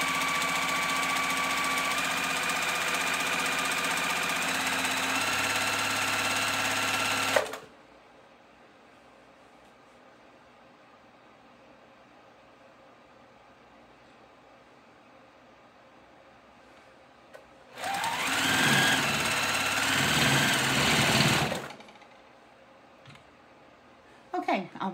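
A sewing machine stitches a cow print ribbon tutu, a loud continuous close whir for several seconds that stops, then long near-silence, then another steady burst of stitching that ends with a few clicks.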